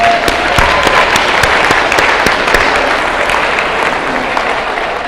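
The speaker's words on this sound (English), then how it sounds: "You can clap." Loud, close applause from an audience at a convocation, continuous dense clapping that holds steady throughout.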